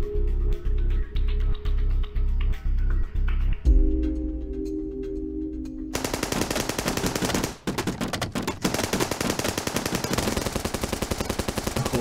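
Bursts of machine gun fire rattle in rapid rhythmic volleys, then give way to dense, sustained gunfire that stays loud throughout.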